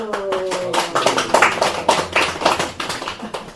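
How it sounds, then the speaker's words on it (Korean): A church congregation claps for its elders on Parents' Sunday, a lively run of overlapping claps with rhythmic peaks, close and loud, after a voice fades out at the start. "우리 어르신들 우리가 스스로 축하하는 마음으로 박수"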